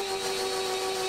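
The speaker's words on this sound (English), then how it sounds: "I think it's Jeffy with a vacuum." A vacuum cleaner running close by, a loud, steady motor whine with a sharp constant tone and no speech.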